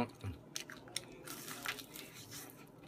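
Crunchy food is bitten and chewed close up, giving a few sharp crisp crunches and then softer chewing. The sound is quiet and carries no talk.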